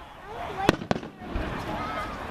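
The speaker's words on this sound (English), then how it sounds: "Oh, yes, the crackle. Release the crackle." Fourth of July fireworks bursting nearby, two sharp loud bangs in quick succession followed by a softer lingering crackle, with people talking over the display.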